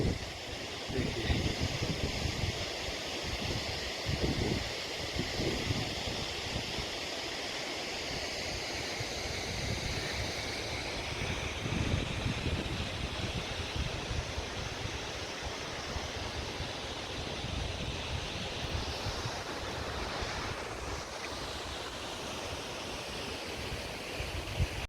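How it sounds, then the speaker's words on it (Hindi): The Sahastradhara waterfall, fed by the Khiro glaciers behind Urgam on the Himalayan trek to Satopanth Lake, pours out a steady, dense roar of rushing water that stays loud and unbroken throughout, with no voices. "पहला झरना आपने देख ही लिया, ये ऊपर से आ रहा है उर्गम के पीछे खीरो ग्लेशियरों से"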